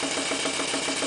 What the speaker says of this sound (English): Hear the engine note changing.